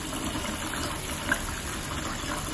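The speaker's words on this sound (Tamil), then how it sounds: "இப்போ பச்சரிசியை ஒரு பாத்திரத்தில் போட்டு அது தண்ணி போட்டு ஊற வச்சுக்கோங்க." Water is poured into a vessel of raw rice for soaking, a steady soft splashing gush at modest level, continuous with no voices.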